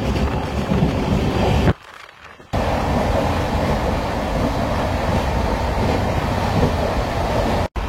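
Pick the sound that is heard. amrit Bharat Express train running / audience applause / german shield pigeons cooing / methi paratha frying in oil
amrit Bharat Express train running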